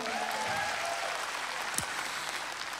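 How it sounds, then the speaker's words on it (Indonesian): Crowd applause at a live concert in 2019, a dense, even wash of clapping from a large audience, steady and somewhat distant throughout. "Eh sekali lagi tepuk tangan dong buat dia"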